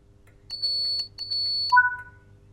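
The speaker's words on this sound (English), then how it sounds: "The guard has given you the clearance for departure by giving you 2 audible beeps from the NHA guard compartment." Two clear electronic beeps come from the guard compartment of a Class 87 locomotive in Train Sim World 5, followed by a shorter two-tone reply, all against a quiet cab hum.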